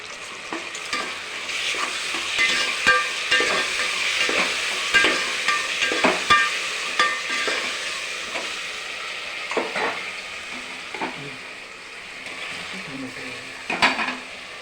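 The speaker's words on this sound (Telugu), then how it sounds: "బాగా వేగిన తర్వాత అల్లం వెల్లుల్లి పేస్ట్ వేయాలి." Ginger garlic paste fries in a pan with a constant sizzle and repeated scraping clinks of a spoon against the metal, close and busy throughout.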